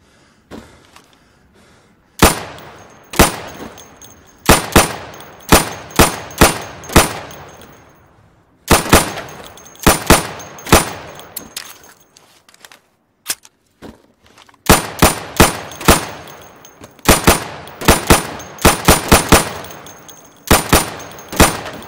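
Sidearm shots in the video game Insurgency fired at pop-up targets, sharp cracks in quick bursts of several rounds separated by short pauses, loud and close with ringing metallic clangs.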